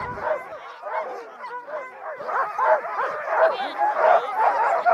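Sled dogs in Jackson Hole, Wyoming, bark and yip excitedly in a dense, overlapping chorus that builds and stays continuous, with high whimpers mixed in and no pauses.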